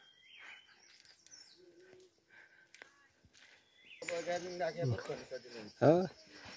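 Assorted birds chirp and call on a hillside, with scattered tweets and short calls, some faint and distant, others close and bright, over quiet outdoor ambience with a louder rustling stretch toward the end.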